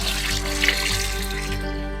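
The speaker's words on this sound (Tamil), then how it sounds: "பத்து லிட்டர் தண்ணீர் கலக்கிறேன்" Ten liters of water are poured into a mixture of farm soil and cow urine for jeevamirtham fertilizer, a steady close rushing pour that fills the short moment without talk.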